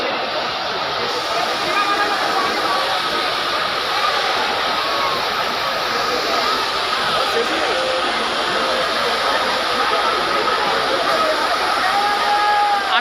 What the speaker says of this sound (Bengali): ওইদিকে জল ফায়ার চলছে, জল ফায়ারের শব্দ।